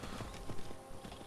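Hooves clip-clop in a quick, steady rhythm as a horse is ridden in the video game Skyrim, moderately close and fairly soft, with no talk over them.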